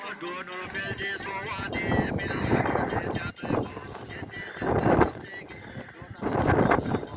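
Wind gusts across the microphone outdoors in cold weather, rumbling and swelling unevenly in loud bursts while a person talks over it.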